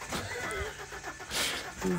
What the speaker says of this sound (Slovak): Vydával takéto zvuky ten motor.